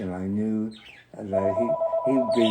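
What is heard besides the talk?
telephone ringing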